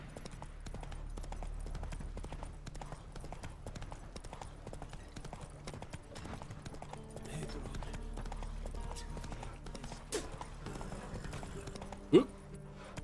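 Roach the horse trotting in The Witcher 3: Wild Hunt, a steady rhythmic clip-clop of hooves running throughout, with a brief louder thud near the end and no talk.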